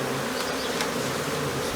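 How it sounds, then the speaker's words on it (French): Calm Africanized bees hum in a dense, continuous buzz close by, with no voices. "Les abeilles sont assez calmes."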